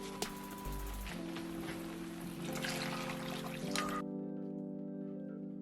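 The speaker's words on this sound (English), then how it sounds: "I'm just going to go ahead and add one and then add some water." Water poured into a vegetable gravy with a bouillon cube, a steady trickling stream for about four seconds that stops abruptly, near and moderately loud with no talking.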